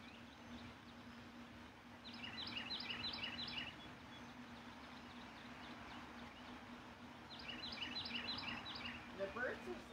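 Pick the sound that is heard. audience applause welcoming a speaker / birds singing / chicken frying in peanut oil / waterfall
birds singing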